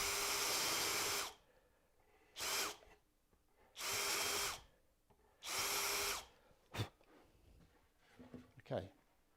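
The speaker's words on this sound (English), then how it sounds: "turn my board over, and through my hole, just going to countersink" A power drill countersinks screw holes in a wooden keepsake box board, whirring in four loud bursts of a second or so each with short pauses between, followed by softer handling knocks.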